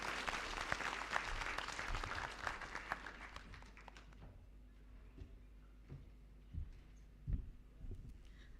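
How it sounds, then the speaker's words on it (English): Audience applause at an anniversary event, dense clapping for about four seconds that dies away into a quiet room with a low hum and a few scattered thumps. "Let's give a hearty hand of applause to Honorable Kajuju"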